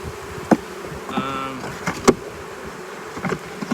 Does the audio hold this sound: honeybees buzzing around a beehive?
yes